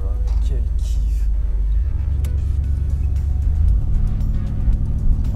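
A 1985 Chevrolet Camaro Z28 engine heard from inside while driving, a loud steady low rumble and drone that swells slightly as the car pulls, with road noise and no talking.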